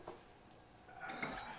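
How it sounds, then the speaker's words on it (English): A small screw dropped into a magnetic parts dish in a home garage gives a faint metallic clink, short and close, against quiet room noise. "one of these magnetic dishes here. We'll put our screw in there."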